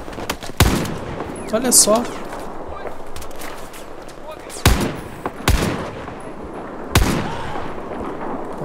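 Sporadic gunfire in the video game Battlefield 4: several sharp, loud shots spaced irregularly, with a short burst near the start, over background battle ambience while someone speaks briefly.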